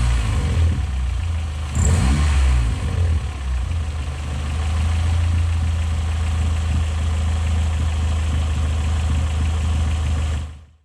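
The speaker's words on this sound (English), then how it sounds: "The idle speed had got down to its usual sort of 700, 750, and it was barely sort of spinning the turbo." A Toyota Starlet's turbocharged 4E-FE engine, its turbo brand new, idles steadily at low revs after a test start, a loud continuous low rumble with a brief rev near the start before cutting off at the end.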